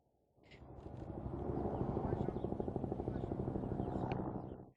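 A helicopter's rotor thumps steadily and loudly during a security operation after a road explosion, its rhythmic chop swelling up and holding close for several seconds.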